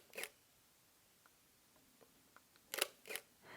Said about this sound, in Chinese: 它的快门触感呢非常的轻快，声音呢也非常的安静，大家可以听一下